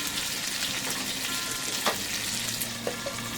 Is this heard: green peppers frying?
yes